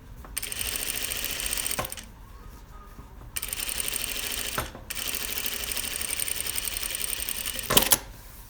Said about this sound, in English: So I've stitched my seam there.